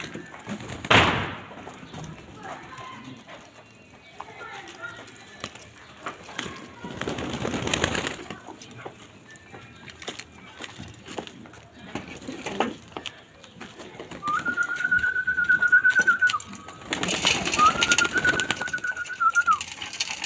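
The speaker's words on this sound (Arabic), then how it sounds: "الحمام اهو مقبل على الاكل" Pigeons feed in a winter loft, with a few near flutters and knocks and then two bright, drawn-out calls near the end over a quiet background.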